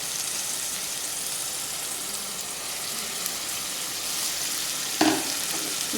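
Ground tomato paste hits hot oil with onion and spice paste, giving a steady, dense sizzle of frying that holds through, with a brief sharper burst near the end as more goes in.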